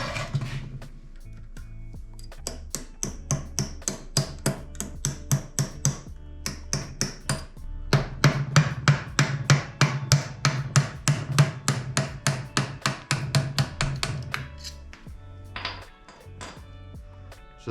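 A hammer gives a Mazda Miata transmission part a long run of sharp, close metallic taps. The strikes come in quick, fairly even bursts with brief pauses between groups.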